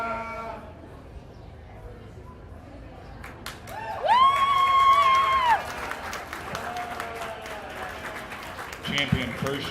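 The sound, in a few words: audience applause for kids at a county fair sheep show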